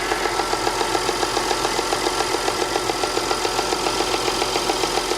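A 2010 Audi Q5 with a direct-injection engine idles steadily, with an even, rapid ticking pulse over a low hum, close up and alone.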